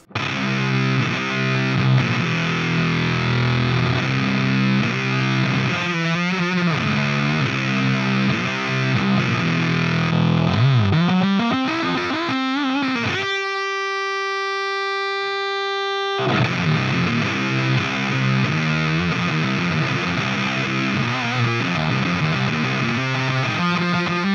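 Thick, saturated electric guitar riffing with heavy fuzz in a stoner metal tone from an Axe-Fx III, loud and continuous, with a brief held clean-sounding tone in the middle before the grinding riff returns.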